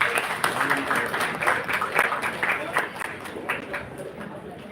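Applause from the audience at an HR conclave during a college memento ceremony, loose steady clapping lasting several seconds with crowd murmur and voices mixed in.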